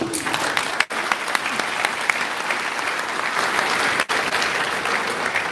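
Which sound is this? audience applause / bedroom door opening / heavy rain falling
audience applause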